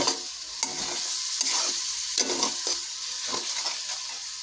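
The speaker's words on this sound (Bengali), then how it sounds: "এবারে এটাকে ভালো করে কষবো যতক্ষণ না এটা তেল ছেড়ে দিচ্ছে" Spice masala being stir-fried in oil for a jackfruit and prawn dish, a steady sizzle broken by repeated scraping strokes of a spatula against the pan, close and continuous with no talking.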